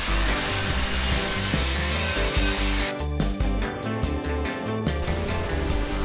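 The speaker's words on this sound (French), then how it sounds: "Là je passe l'extérieur du tube avec une brosse métallique douce." A soft wire brush scrubs the outside of a metal tube, close and steady, first as a continuous rasp and then as quick rhythmic strokes, with no voices.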